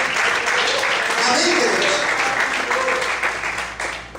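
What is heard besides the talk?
church congregation applauding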